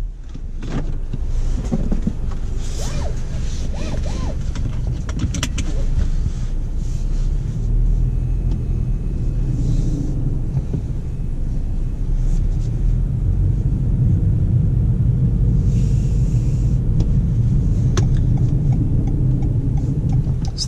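Steady, low road and engine rumble inside a moving 2019 Toyota Corolla Hatchback XSE, a continuous drone with faint interior rattles and clicks and no talking.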